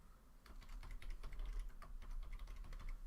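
A folder name is typed on a computer keyboard, quick, close, irregular key clicks in a continuous run over soft low room hum.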